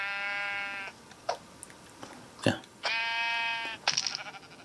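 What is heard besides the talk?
sheep bleating in the video game Minecraft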